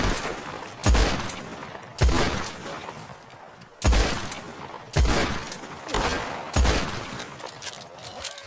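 Single gunshots in Red Dead Online, about seven loud, sharp reports spaced a second or so apart, each trailing into a short echoing decay, with no speech.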